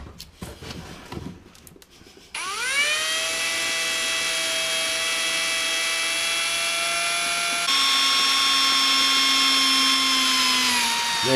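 A power drill whines steadily and loudly while boring through a bus bunk bolt hole, starting after a few seconds of handling noise, then shifting pitch as the bit breaks through, close and without talk.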